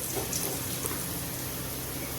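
A little water pours into a cooking pan while banana chutney sweetened with jaggery is made, a steady soft splashing trickle that lasts throughout with no talking.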